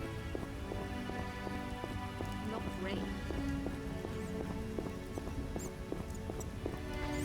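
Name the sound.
rain falling in The Witcher video game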